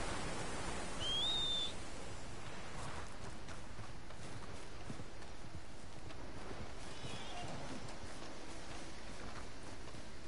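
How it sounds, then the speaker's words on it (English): A horse trotting up in the open-world western video game Red Dead Redemption 2, soft clip-clop hooves over steady outdoor game ambience, with a brief whistle near the start. "Oh, where's that horse?"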